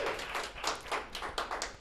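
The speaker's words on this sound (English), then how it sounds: "round of applause" Short burst of audience applause at a tonight-show style stage event, uneven hand claps rising and falling in loudness, close and fairly quiet, with no voices over it.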